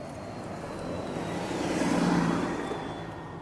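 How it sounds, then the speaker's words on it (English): A bus passing by on a road, a broad rumbling vehicle noise that swells to a peak midway and then fades, heard from inside or beside a stopped vehicle. "Little break here to get out here after this bus passes."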